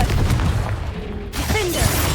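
Confringo fire spell blasting in the video game Hogwarts Legacy, a dense loud explosive burst with rumbling booms and crackling debris filling the whole stretch, followed by a short whooshing sweep.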